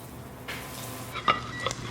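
A cheese omelette sizzles and fries steadily in a pan right after being flipped, a close, continuous crackle with a couple of brief utensil scrapes near the end.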